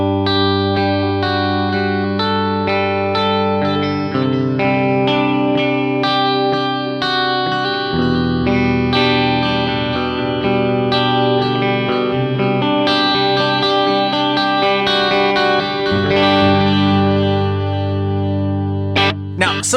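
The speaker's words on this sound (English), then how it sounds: "You can mess with the effects and get some super ambient sounds with just this one effect." Electric guitar, switched over from acoustic, played through a single ambient effect pedal, giving sustained chords washed in chorus, echo and reverb that ring on continuously at a steady, fairly loud level with no talking.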